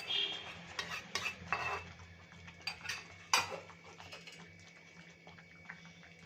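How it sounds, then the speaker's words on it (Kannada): Millet bisi bele bath being stirred in a pot, with a spoon scraping and clacking against the metal in irregular bursts over a faint background hum, close by and fairly quiet, no talking. "ಈಗ ಚೆನ್ನಾಗಿ ಮಿಕ್ಸ್ ಮಾಡೋಣ"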